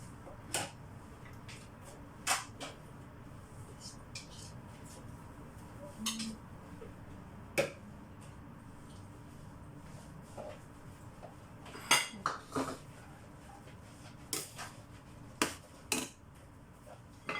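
Metal utensils and dishes clink and clatter while being washed for macaroni salad, scattered light taps and chinks over steady running water, fairly faint.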